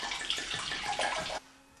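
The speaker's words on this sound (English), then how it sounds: "put 500 mils of the red wine in first of all" Red wine poured from a bottle into a jug for sangria, a steady gurgling splash that stops abruptly after about a second and a half, leaving quiet room tone.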